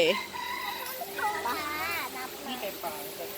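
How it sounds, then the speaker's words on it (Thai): A free-roaming chicken at a zoo gives brief clucks and warbling calls up close, mixed with people talking nearby. "อยู่นี่ก็มีไก่โผล่มาจากไหนก็ไม่รู้ ไก่มันบินได้ด้วย"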